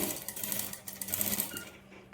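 A sewing machine stitches invisible thread piping on a blouse neckline in a steady close whirring run for about two seconds, then stops, with no voices.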